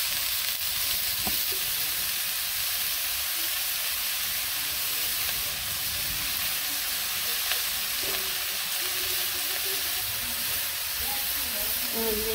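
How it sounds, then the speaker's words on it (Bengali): Vegetables with radish and flat beans sizzle steadily in a pan, a continuous loud frying hiss with occasional faint clinks and a hint of distant voices. "আমি সবজি মূলা সিম দিয়ে সবজি রান্না করি"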